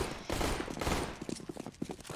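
Rapid bursts of gunfire crackle in a dense volley, then thin out into scattered separate shots, muffled and moderately distant.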